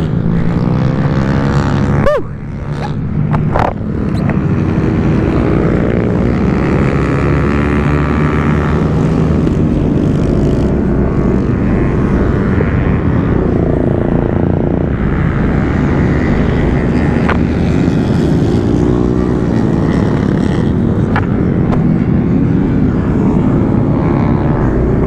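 A motorcycle engine drones loud and steady at close range throughout, with a couple of sharp knocks or scrapes near the start on a hill circuit.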